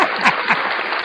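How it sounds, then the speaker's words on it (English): Brief applause for a guest on a live horror-movie review show, a steady wash of clapping with a couple of slightly louder bursts, heard alone. "Now I gotta give you some applause."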